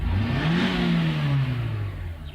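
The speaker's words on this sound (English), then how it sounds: "I'm going to try to rev the engine up" A 2002 Nissan X-Trail engine revved at wide open throttle while being checked for low power, a loud close roar that climbs in pitch, holds, then eases slightly, with no talking over it.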